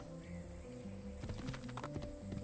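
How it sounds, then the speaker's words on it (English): Steady clip-clopping horse hooves trot along in Assassin's Creed 2 over game music with sustained tones, the rhythmic clatter growing a bit busier in the second half. "Ezio, why is your horse stopped?"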